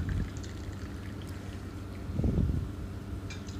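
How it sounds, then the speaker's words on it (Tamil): Water pours in a short burst partway through, splashing into a glass over a low steady background hum. "தண்ணி சேர்த்துக்கிடலாம்."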